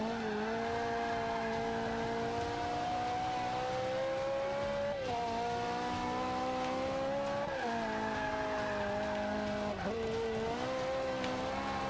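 A 2009 Ferrari 458 Italia driven in the Forza 5 racing game, its engine droning and revving steadily, rising and dropping with gear changes about every two and a half seconds, loud and continuous with no talk.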